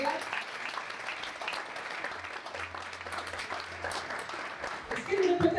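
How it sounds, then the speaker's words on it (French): An audience at an awards ceremony in Pointe-Noire claps steadily for a winner, and the applause swells near the end. "Applaudir pour notre lauréat."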